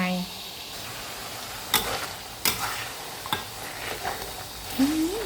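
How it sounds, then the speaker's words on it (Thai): Pork bones frying with garlic and black pepper in hot oil, a soft steady sizzle with a few sharp clatters of a utensil stirring the pan. "ทอดกระดูกหมูกระเทียมพริกไทย"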